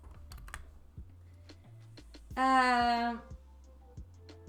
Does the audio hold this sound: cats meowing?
no